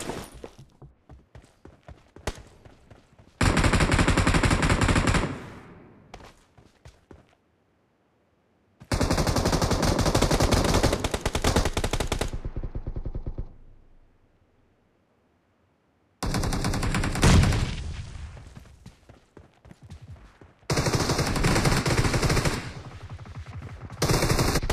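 BGMI arena 4 vs 4 team death match: bursts of automatic gunfire, loud and close, in long rapid stretches separated by sudden silences, with scattered single shots between.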